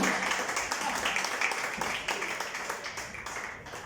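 Audience applause in a church during a Bible study evening: a steady wash of many hands clapping, moderately loud and sustained, with some voices mixed in underneath, easing slightly toward the end.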